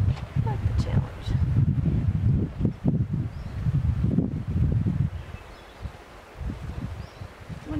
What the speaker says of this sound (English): A little bit of a windy day for this.